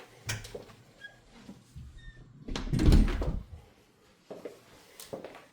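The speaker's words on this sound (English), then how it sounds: "Let me shut the door all the way." Someone shuts a house's front door: soft rustles and clicks lead into one solid, close thud, followed by a few quieter knocks.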